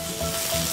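Meat sizzles steadily and loudly on a small tabletop yakiniku grill plate, a close, continuous hiss.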